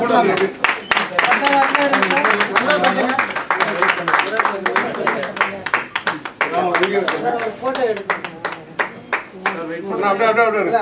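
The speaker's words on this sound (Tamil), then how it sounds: "எல்லாரும் ஒரு கைத்தட்டல்" Audience applause at a 12th annual day event in Chennai: dense, steady clapping runs the full length under a prominent voice with tonal singing or speech.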